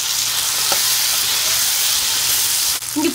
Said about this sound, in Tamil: பூண்டு நல்லா எண்ணெயிலேயே வணங்கிட்டோம்